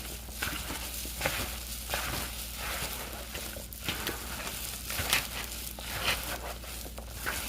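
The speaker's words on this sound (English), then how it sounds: "Let's stir this up and mix it again." Vinegar-based sauce is stirred and mixed in a pot, a series of soft scraping and sloshing strokes at an uneven rhythm over a low background hum, fairly close and moderately quiet, with no talking.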